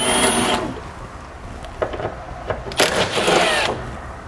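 A power tool with a 10mm socket backs out the fascia support bolts on a 2012 Mazda 3. Short whirring bursts and metallic clicks come close by over a steady background hum.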